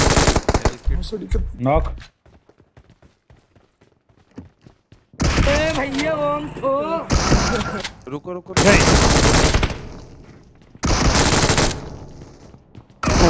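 Bursts of MG3 machine gun fire in the mobile battle royale game BGMI, loud rapid volleys separated by pauses, with players talking over the gameplay.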